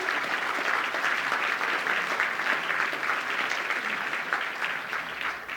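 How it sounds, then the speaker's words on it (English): Large audience at a national apprenticeship awards final ceremony applauding an award winner, dense continuous clapping at an even level throughout, full and sustained with no voices standing out. "So let's give her a nice big round of applause once again."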